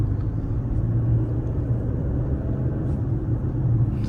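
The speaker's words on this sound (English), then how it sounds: "So this is in-city driving." A truck rolls through city streets with a hands-free steering system fitted, a steady low engine and road rumble heard from inside the cab, constant and moderately loud with no talk.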